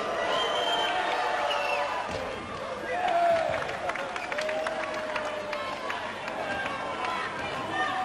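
A 1985 European Champions Cup basketball game between Kingston and Maccabi, with Israeli fans in the arena; a broad crowd murmur and cheering runs under a commentator's voice, along with sneaker squeaks and footsteps on the court.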